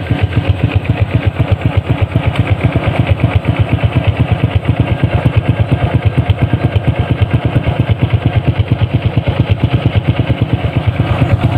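A motorcycle engine with a Yoshimura exhaust and silencer idles close by with a muffled, even, rapid putter that holds steady throughout.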